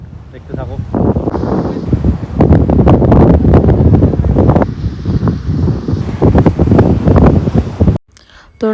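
Sea waves and strong wind on the Visakhapatnam coast near Rushikonda with hills around, loud gusty roar and surf wash buffeting the microphone continuously, cutting out briefly near the end.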